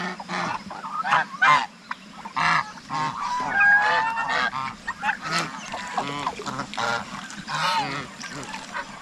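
A newly hatched second batch of guinea fowl keeps up a noisy, busy chorus of overlapping high chirps and calls, close and fairly loud, with no talking.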